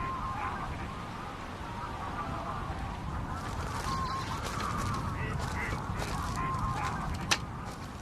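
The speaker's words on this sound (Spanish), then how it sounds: "Las aves acuáticas se repliegan en el centro del lago hasta que vuelva a amanecer." Ducks, geese and other waterbirds call and quack from across a reed-fringed lake at dusk, scattered honks and quacks over a steady wash of ambient noise, fairly distant.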